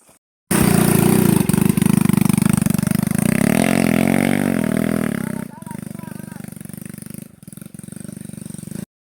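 A motorcycle engine runs loud and close on the Bulo Dam trail, revving up with a rising whine before dropping back to a rougher, uneven idle, while people talk over it.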